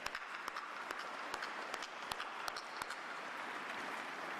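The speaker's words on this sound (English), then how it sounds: "How about a round of applause for that?" Sustained applause from a gathered audience of business leaders at a police-support event in Atlanta, steady dense clapping with a few sharper claps standing out, alone.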